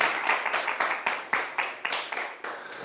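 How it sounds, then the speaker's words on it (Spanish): Audience applause at a political formalization event, a steady run of hand claps with sharp individual peaks, fairly close and clear, no voices over it. "Démonos un aplauso"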